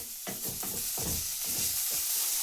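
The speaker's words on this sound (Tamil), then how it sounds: "இஞ்சி பூண்டு பேஸ்ட் இன்னும் கொஞ்சம் வதக்குங்கப்பா. வெங்காயம் இன்னும் கொஞ்சம் அடி பிடிக்கிற மாதிரி இருக்கு." Onions with ginger garlic paste fry loudly in a pan, a steady close sizzle broken by repeated scraping stirs of a spatula.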